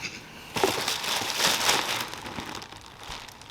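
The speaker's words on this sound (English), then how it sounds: "Okay, we have a plastic bag." Plastic bag crinkling and rustling as seed trays are unboxed, a close, irregular crackle that swells and fades over a few seconds, with no talking.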